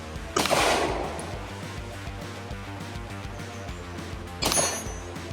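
Two sharp, loud handgun shots crack at a shooting range, spaced about four seconds apart, each followed by a short ringing decay against a quiet background, with no talking.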